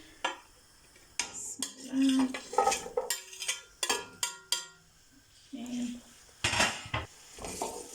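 Onions being stirred in a pan with olive and vegetable oil for prawn tagliatelle, giving a series of scraping utensil clinks and knocks against the pan, moderately close, with brief soft voice sounds between them.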